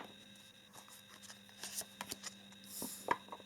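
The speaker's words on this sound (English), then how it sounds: "let's pull 6 cards for you" Tarot cards slid and pulled from a deck one after another, light papery flicks and soft shuffling rustles, close and quiet, with a brief brighter swish near the end.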